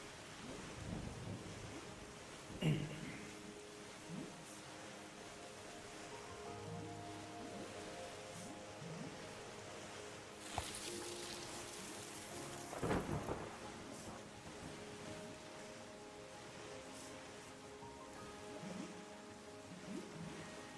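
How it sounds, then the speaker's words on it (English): Rain falls steadily in the video game Terra Nil while thunder rumbles, with several distinct rolling claps rising over the soft, continuous patter. "Let's give the rain some time to fill everything in."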